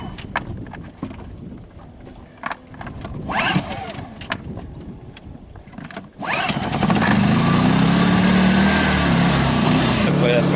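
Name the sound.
Honda generator starting up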